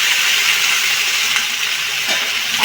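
Half a potato fries in a pan, probably with ivy gourd for a poppy-seed dish, giving a loud, steady sizzle and hiss that runs unbroken close by, with faint stirring and no talk.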